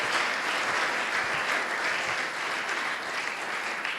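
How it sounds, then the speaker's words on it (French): Church congregation applauding the Lord during a worship service, a dense, continuous wash of many hands clapping together at even, moderate loudness throughout. "Applaudissez pour le Seigneur."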